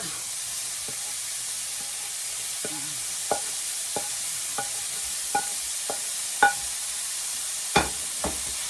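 Frozen vegetables stir fried with already cooked ground beef for shepherd's pie hiss in a steady loud sizzle, broken by a series of spatula scrapes and knocks against the pan that grow sharper toward the end.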